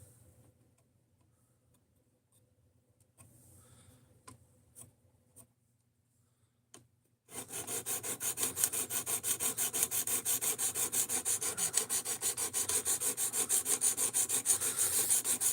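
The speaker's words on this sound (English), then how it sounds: "trying to figure out how to make a Tonto work on this sharpener" A Tonto knife being sharpened on a Work Sharp sharpener: after a few quiet taps and clicks, a loud rapid rhythmic grinding rasp starts and continues steadily to the end.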